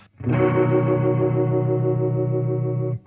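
A sustained electric guitar chord rings through a Strymon Lex rotary speaker pedal with light grit and a slow, wavering chorus-like shimmer, then stops abruptly after about three seconds.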